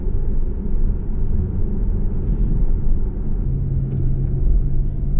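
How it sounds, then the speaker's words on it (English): A 2021 Porsche Panamera with the optional sport exhaust gives a steady, deep growl and low rumble close by, holding an even loudness throughout with no talking. "Just turned it on and you can hear that growl,"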